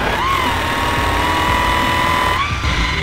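Rotary buffing wheel running at about 1400 RPM loaded with Zephyr Rouge polishing compound, a loud continuous motor whine with slight pitch dips as the work is pressed against the wheel.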